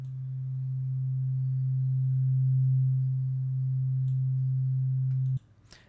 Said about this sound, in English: This kind of a waveform is called as a sine wave.